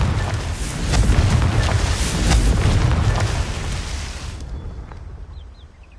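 A Confringo blasting spell detonates in Hogwarts Legacy with a loud, deep booming explosion that swells, then decays into a crackling, fading rumble over several seconds.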